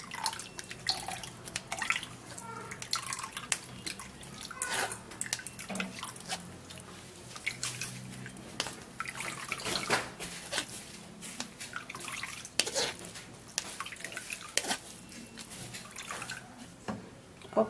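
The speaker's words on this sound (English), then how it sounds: "you'll have to sieve this out, the cucumber and the ginger" Cucumber and ginger juice strained through a sieve, a steady wet dripping and trickling with small irregular splashes throughout, fairly quiet and close, with no talking.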